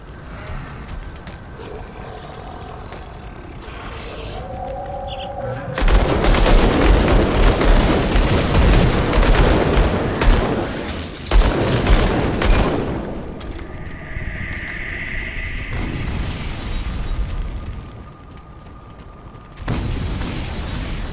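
Enemy gunfire and combat noise in the video game Grim Dawn: loud bursts of blasts and crackling explosions over mechanical clanks and clicks, with dense stretches that rise and fall.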